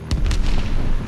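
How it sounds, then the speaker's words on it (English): Bomb blast in a first-person shooter game: a short burst of booming, crackling detonations with deep low rumble, loud and close, lasting about a second with no talk. "Oh, that was the bomb."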